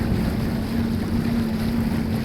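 A Sea-Doo RXT personal watercraft idles back to the dock, its engine a steady low drone under loud, constant wind buffeting the microphone.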